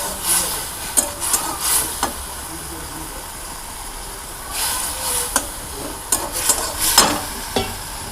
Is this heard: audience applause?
no